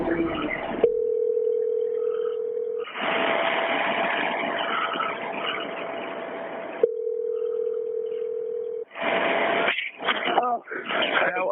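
A 911 call being called back over the telephone: steady ring tones alternate with stretches of muffled line noise and crackle, then faint voices come through the receiver near the end.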